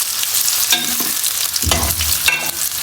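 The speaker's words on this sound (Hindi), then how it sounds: "फिर हम दो दरमियाने साइज की प्याज लेंगे और फिर इसको अच्छे तरीके से फ्राई करेंगे।" Two medium onions frying in oil in a pan while being stirred, a soft sizzle with intermittent scraping bursts of stirring, close and moderately quiet.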